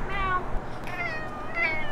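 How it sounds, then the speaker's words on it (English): A cat meows repeatedly in a sitcom scene, a few short nasal mews close by against a light room background. "Meow, meow."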